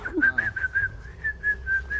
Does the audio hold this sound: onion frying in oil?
no